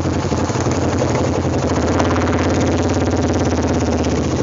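A Honda Rancher 420 ATV engine in first gear on a night ride gives a loud, steady, close-up drone that holds an even level throughout, with no break or voices.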